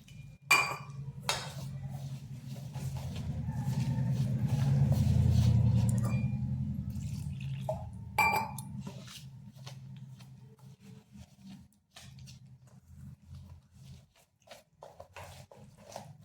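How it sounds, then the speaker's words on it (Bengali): A spoon clinks and scrapes against a bowl while semolina and potato are mixed dry, with intermittent sharp taps over a low rumble, heavier in the first half and sparser later. "এরপরে শুকনো উপকরণগুলি ভালোভাবে মিশিয়ে নিচ্ছি।"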